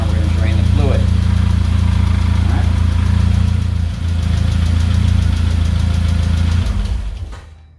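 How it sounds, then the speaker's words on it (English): A loud Saab 9-5 car engine with low oil pressure idles steadily up close with engine flush in the oil, a low rumbling drone that holds evenly before winding down and cutting off at the end. "we have let the engine run with the motor flush in it for the prescribed 5 minutes"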